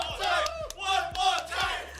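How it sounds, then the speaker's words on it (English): A large esports arena crowd at a mobile game finals roars and chants in rhythmic bursts, loud and sustained, with repeated thumping beats underneath. "The crowd is raving"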